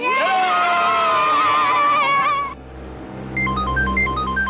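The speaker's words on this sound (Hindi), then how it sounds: "अरे वो सीआईडी वालों को फोन आ रहा है।" Loud children's shouting and whooping gives way to an electronic phone ringtone chirping in a repeating two-tone pattern.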